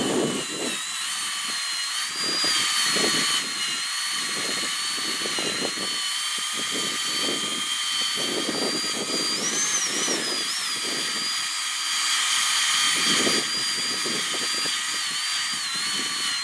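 A power drill turns at slow speed, between 2,000 and 4,000 RPM, to strip old pinstripe decal glue from a car body. It whines in repeated bursts with brief pauses and runs alone without talk.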